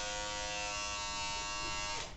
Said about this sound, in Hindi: ये फिलिप्स का BT1000 सीरीज का ट्रिमर है एंड ज़रा इसकी साउंड सुनिए कितनी अनोइंग साउंड होती है